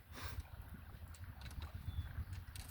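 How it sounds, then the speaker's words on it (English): A small dinghy moving through the water in the wind near D'Arcy Island, faint low lapping and gurgling of water against the hull under steady wind rush, continuous and quiet. "Noisiest thing around is the dinghy making a bit of noise as it actually moves through the water with the wind."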